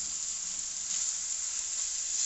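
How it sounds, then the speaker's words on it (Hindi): Shredded boiled chicken with soy sauce fries in a pan as kachori filling, a steady, loud bright sizzle that continues without a break and without any voices. "और इसको हम बस 2 से 3 मिनट के लिए भूनेंगे"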